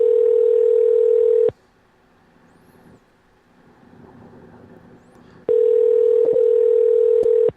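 Telephone line tone while a call is placed to a guest: a loud, steady pure tone for about a second and a half, a few seconds of quiet line noise, then the same tone returns and holds.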